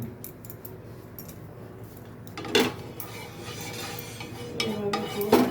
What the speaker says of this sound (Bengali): আমি হালকা তেল দিয়ে, খুব একটা বেশি না, পুরো প্যানটাকে গ্রিস করে নেব